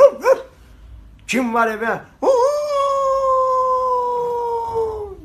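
A dog yelps in short bursts, then breaks into one long, loud, steady howl held for several seconds. Someone speaks briefly over the start.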